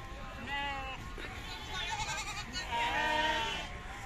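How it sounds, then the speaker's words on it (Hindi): Goats bleat among a crowd at the Deonar livestock market, several wavering calls overlapping over a constant noisy bustle and someone talking. "इधर पे बकरिया है, एक ये बच्चा देख सकते हो आप लोग,"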